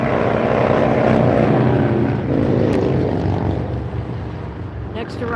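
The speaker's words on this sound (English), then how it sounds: "Next arrival on the north side is going to be that Qantas A380. 800 series, it's Qantas Flight 11 coming in from Sydney." A Qantas Airbus A380-800 arriving at LAX from Sydney, a loud, continuous roar of big jet engines that swells early then eases slightly, heard close with a faint voice beneath.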